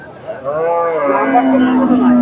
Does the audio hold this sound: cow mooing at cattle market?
yes